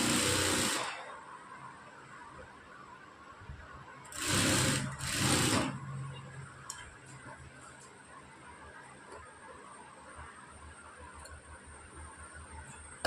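A sewing machine stitches a blouse patta piece in two loud close bursts of rapid whirring, with quiet ticks and handling noise between runs.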